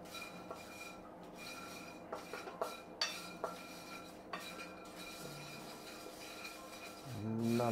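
Seasoned homemade finger chips being tossed in a metal dish, a run of light clinks and rattling knocks, mostly sparse and close, ending in a louder shaking rattle.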